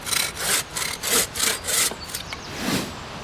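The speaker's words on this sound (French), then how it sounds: "Ainsi, je peux finir de scier en toute facilité." A hand saw cuts through a wooden log in steady back-and-forth strokes, about six rasping pulls in quick rhythm, close and loud, with no voices.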